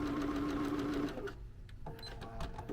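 Bernina sewing machine quilting oven mitts with the stitch regulator; a close whirring hum of stitching that stops after about a second, followed by light clicks and handling noise.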